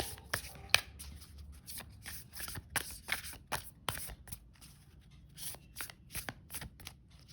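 Tarot cards being shuffled by hand, a run of soft riffling flicks and taps at close range with brief pauses between them, quiet and without any speech.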